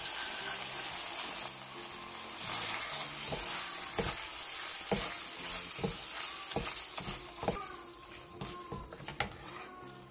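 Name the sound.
lightly stirring cooked meat with syrup, sesame oil, sesame seeds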